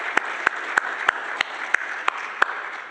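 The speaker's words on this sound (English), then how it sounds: "just please give this panel a round of applause" An audience at a smart water and wastewater panel claps in an even, sparse rhythm, distinct handclaps spaced about a third of a second apart against a low room hum.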